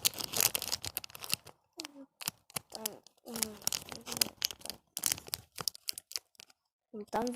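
A paper blind packet holding squishy toy mice is torn open and crinkled: sharp rips and crackling rustles come in quick bursts, close and fairly loud, while someone talks intermittently in between.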